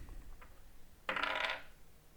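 A Pixels electronic die rolled onto a hard surface, giving one short clattering tumble of about half a second, close and fairly loud against a quiet room.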